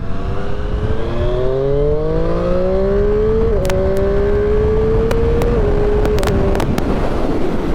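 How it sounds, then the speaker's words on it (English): A Triumph Street Triple RS motorcycle accelerates up an on-ramp, its engine note rising steadily through the gears with brief dips at each shift, loud and close over constant wind rush. "see how acceleration is up this on-ramp"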